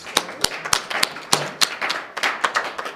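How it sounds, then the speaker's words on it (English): Sparse, sharp claps ring out at a school board work session, a handful of separate hand claps spaced irregularly rather than full audience applause. "let's give them all a big round of applause"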